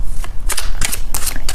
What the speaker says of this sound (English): I am shuffling the cards and asking the angels to give us a specific answer